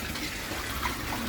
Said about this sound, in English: Straight away you can hear it flushing through.